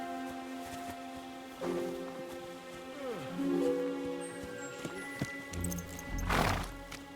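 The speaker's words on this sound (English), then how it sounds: "The horses are here." Horses in the video game Kingdom Come: Deliverance II, with faint hoof clops and a whinny among quiet ambient background sounds, heard alone without talk.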